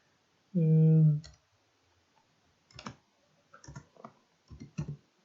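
A computer keyboard, Enter pressed then keys typed while programming an Arduino traffic light: a brief hummed voice sound, then scattered clusters of light close clicks with short pauses between.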